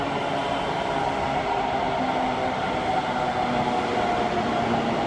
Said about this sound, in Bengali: এই দেখো আবার একটা ট্রেন এইদিকে যাচ্ছে